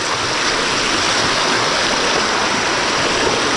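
A steady, loud rush of floodwater from heavy rain fills the scene, continuous and broadband with no pauses, in a Konkan village.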